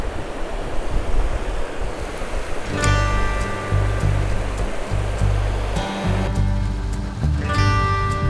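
A river runs steadily past a roadside river access spot, producing a loud, constant rush of flowing water close by, with a faint tonal hum layered in partway through.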